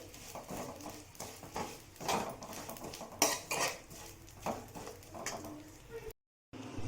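Vermicelli roasting in ghee is stirred in a pan, a busy run of metallic spoon scrapes and knocks against the pan at close range, irregular and fairly quiet, ending in a brief silence.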